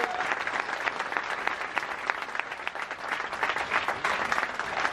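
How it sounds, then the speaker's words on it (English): Cruise ship show audience applauds a pianist onboard P&O Cruises Britannia, a dense, steady round of clapping from many hands that holds fairly even for the full few seconds. "please, a huge round of applause for Dan on piano."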